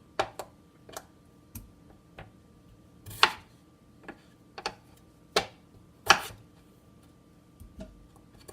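A knife chops potatoes for a vegan Scottish stew on a cutting board, about a dozen crisp, uneven knocks spaced out with quiet gaps, close and with no talk.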